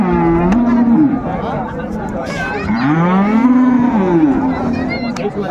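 Cattle lowing at a busy rural livestock market in Dinajpur, where dairy cows and calves are traded: two long, loud moos, one early and a bigger one in the middle, with crowd chatter and voices running underneath throughout.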